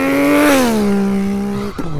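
Voice imitating a Nissan R34 Skyline, a loud close mouth-made engine rev that climbs, holds a strained tone, then drops with a brief sputtering shift at the end.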